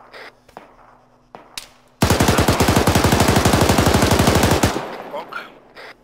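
Sustained machine gun burst in ARMA 3 combat on the Altis map, NATO against Russia, a rapid steady stream of loud shots lasting about three seconds, with faint talk and ambient noise before and after.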